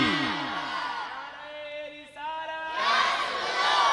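A large crowd at a Muharram religious gathering shouts back the Naara-e-Takbeer slogan in a loud, massed roar that swells at the start, dips while a single sustained voice rings out, then surges again.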